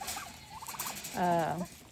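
A turkey on a small farm lets out one brief gobble near its end, a short rattling call after softer clucks, close and moderately loud.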